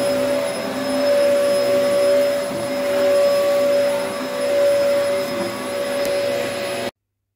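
A Dyson vacuum cleaner runs steadily while hoovering, a loud, constant whine with a slight rise and fall as it moves, then cuts off abruptly at the end.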